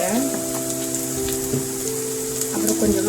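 Red chilli sauce goes into a hot, sizzling pan of home-cooked pasta, giving a continuous close sizzle and spatter over a sustained background tone.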